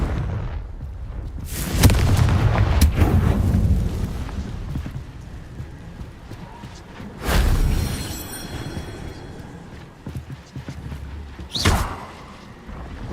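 Confringo fire spell blasts in Hogwarts Legacy: several loud, booming bursts with crackling tails, spaced across the stretch, one heavy impact early, another midway and a sharp one near the end, no talking.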